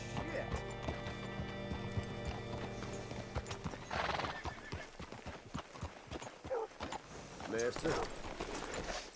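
Horse in Red Dead Redemption 2 being hitched at a post, with hooves clip-clopping, a loud whinny, and a brief spoken word over a steady ambient game score.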